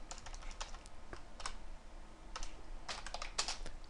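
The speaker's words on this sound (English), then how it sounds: "as soon as I start speeding up, my typing gets horrendous" Fast typing on a computer keyboard while writing C++ code, bursts of crisp close key clicks in quick irregular clusters.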